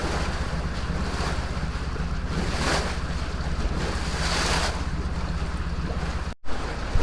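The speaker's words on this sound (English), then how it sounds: "Looks like it's bubbling up from both sides this time." Continuous rushing, churning water bubbling up from both sides of a canal lock, with heavy turbulence and wind buffeting the microphone, loud and close, briefly cutting out near the end.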